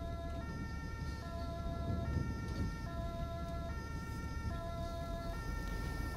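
An ambulance siren in the GTA 5 video game wails in a steady, repeating two-tone cycle over a low, continuous engine rumble, heard clearly without speech.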